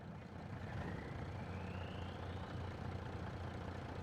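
Deep, steady idle of a heavy truck engine in a video game expansion, a continuous low rumble with a faint rising turbo whine, heard alone without talk.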